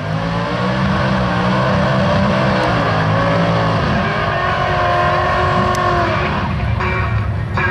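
Holden and Ford drag racing cars roar at a nostalgia drags event at Townsville Dragway, producing continuous loud engine noise with rising and shifting tones throughout, steady and close with no pauses.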